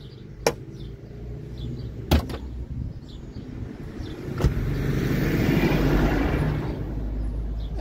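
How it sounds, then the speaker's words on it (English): Road traffic passing on a nearby road, with a couple of sharp thumps early on and a vehicle swelling louder toward the middle before easing off, heard as steady background noise with no talking. "There's some traffic going by today."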